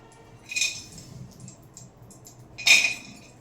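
Cashews dropped into a pan of hot ghee while making bread halwa, giving two brief bright clinking sizzles about two seconds apart against a quiet kitchen background.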